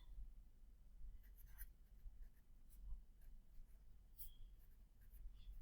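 A pen scratches across a paper handout in a classroom, with soft, quiet writing strokes and small taps over a low background rumble, and no talking.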